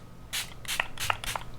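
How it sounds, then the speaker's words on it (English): Plush Prep Spray primer mists out in four quick hissing bursts, close and fairly soft, with short pauses between them. "with our Plush Prep Spray because it's a good primer"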